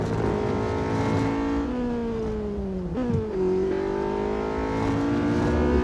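A Honda Civic Type-R in the racing game Real Racing 3 holds a loud, close, continuous engine whine that dips briefly midway, as if shifting or braking, then climbs back up under acceleration, with no voices.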